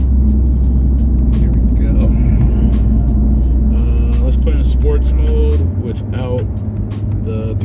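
A Lexus RC 350 F-Sport fitted with a Takeda cold air intake accelerates, a loud steady engine drone heard from inside the cabin that shifts pitch near the end, with someone talking over it.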